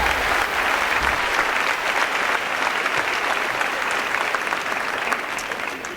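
Sustained applause from a large school crowd at a farewell ceremony for the PTO president, dense and even for several seconds before easing slightly at the end.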